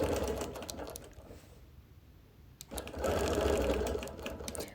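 A sewing machine stitches in the ditch while quilting a busy printed fabric, running in fast, close, rhythmic bursts with a short pause in the middle before it speeds back up.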